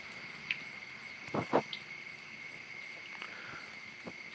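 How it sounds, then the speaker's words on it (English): Crickets and frogs calling at night during a stormy summer evening heard through an old window, a steady high insect trill with a few scattered croaks and clicks, faint and distant. "Oh no, that's a mixture of crickets and frogs."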